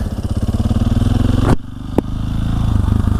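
Supermoto motorcycle engine being ridden, a loud close pulsing thump that drops suddenly partway through, then builds back up in rhythmic revs.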